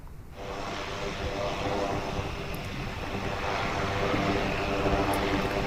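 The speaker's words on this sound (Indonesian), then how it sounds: "Pesawat Angkatan Udara Amerika Serikat USAF C-130 Hercules dan pesawat pembom B-1 Lancer terlihat di pangkalan Angkatan Udara Militer" USAF C-130 Hercules at a military air base, a continuous loud propeller engine drone that comes in abruptly and holds steady, slowly building in strength.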